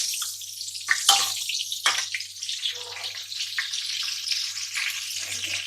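Ghee heats and sizzles in a pan, a steady close hiss of frying fat with a few brief sharper crackles and pops near the start, no voices.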